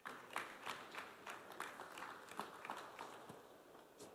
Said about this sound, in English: This applause is not motivated. It's anemic.